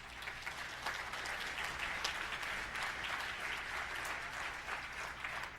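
Steady applause from an audience at a Board of Education study session: many hands clapping evenly for several seconds, moderately distant and fairly quiet in a large room, with no voice over it.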